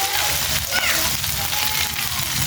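A small amount of onion with garlic sizzles and crackles in hot oil in a pan while a broiler chicken curry is cooked, a loud, steady frying hiss close up, with light stirring and a voice speaking over it.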